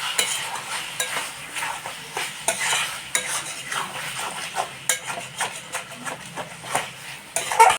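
Chicken pieces being stir-fried in released oil for chicken kosha, with a spatula scraping and clattering against the pot in quick irregular strokes over a low sizzle.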